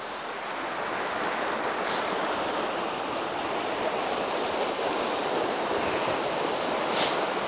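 Water gushing out through the overflow channel of a traditional stone flour mill, a loud, continuous rushing roar close by, unbroken for the whole stretch.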